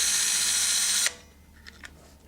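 An electric nutrunner runs in reverse to loosen a fastener, its steady loud whir lasting about a second before cutting off abruptly, followed by a few faint clicks.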